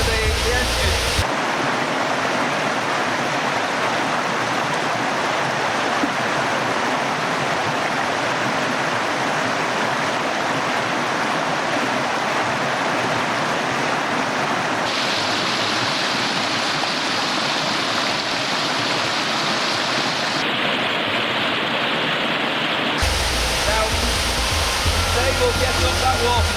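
Rushing water of a waterfall in the Scottish highlands below a loch, a steady broadband roar heard close and loud throughout, with slight shifts in tone partway through and no talking.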